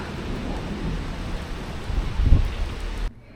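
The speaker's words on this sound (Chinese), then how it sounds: "突然下雷雨了。" Steady rain falls in Switzerland while a low thunder rumble swells and peaks before the sound cuts off abruptly.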